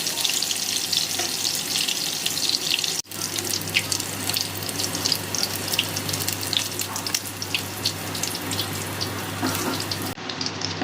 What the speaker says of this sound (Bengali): এবারে ওই একই তেলে আমি দিয়ে দেব টুকরো করে কেটে রাখা বেগুন এগুলিকে আমি এবার ভালো করে ভেজে নেব